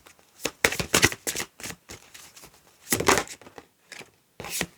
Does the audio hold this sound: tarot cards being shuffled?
yes